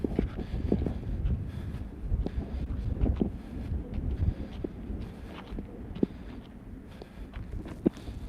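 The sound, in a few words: wind noise on microphone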